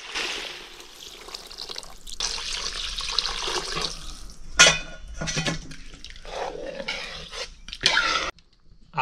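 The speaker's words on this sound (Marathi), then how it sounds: "चला आता आपण पाणी टाक घेऊ." Water poured into a pot of rice for a village-style chicken biryani cooked over a wood-fired clay stove, a splashing, trickling pour in bursts with short pauses between them, fairly close, no voices.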